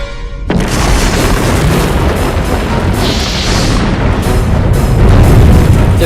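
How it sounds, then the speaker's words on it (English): A huge, deep rumbling boom stands in for the young Earth colliding with a small protoplanet, starting abruptly and rolling on as a loud, sustained roar with a brief brighter swell partway through. "the young Earth is on a collision course with a small protoplanet"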